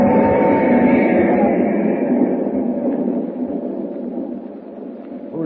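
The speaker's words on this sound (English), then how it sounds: "As the train roars into the night" A steam-era train roars along through the night, a loud, steady low rumble with a broad hiss above it, sustained and gradually easing slightly, with no voices over it.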